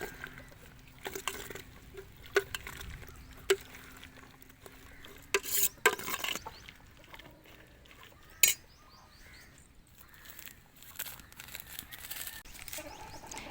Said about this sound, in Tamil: இதெல்லாம் சேர்த்து இப்படி மிக்ஸ் பண்ணிக்கலாம்.